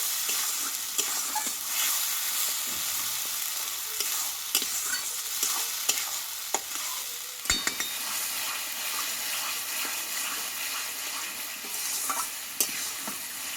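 A ground paste of ginger, tomato, coriander leaves and green chilli fries with onions in a pan for a Bengali chicken dish, a steady dense sizzle with spoon scrapes and occasional sharp clinks, close and continuous, no talking.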